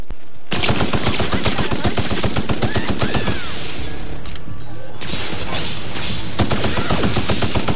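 Assault rifle fire in the sci-fi game The Outer Worlds rattles out as loud, fast automatic bursts that run almost the whole time, with only a short pause midway.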